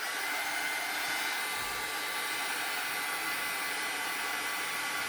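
A heat gun blows steadily to dry unfolded paper flowers for a craft gift box. The hiss is loud, close and unbroken, with no voices.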